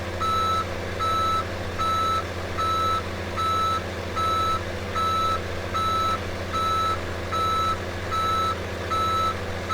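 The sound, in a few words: giant truck reversing with backup beeps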